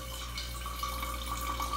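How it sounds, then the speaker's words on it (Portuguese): A water bottle fills at a kitchen water purifier: a steady, close rushing and trickling of water with a faint rising tone, continuous and alone for under two seconds. "aqui nós temos uma garrafa enchendo no purificador de água"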